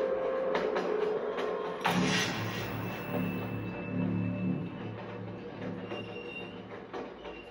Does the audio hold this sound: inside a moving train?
yes